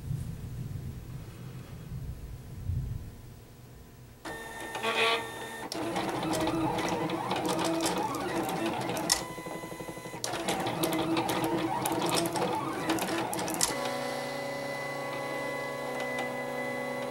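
A cutting machine fitted with a WRMK Foil Quill sketches foil candy cane designs for Christmas cards, giving a steady mechanical whir with rhythmic motor pulses and carriage movements after a quieter opening, continuing alone throughout.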